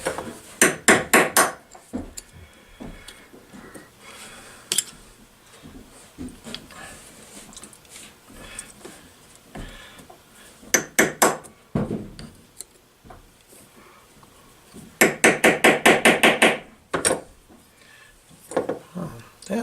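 Sharp metallic hammer strikes on a part of a 1966 Honda Benly engine, fired in quick bursts of rapid taps separated by quieter pauses of shuffling work noise, close and loud.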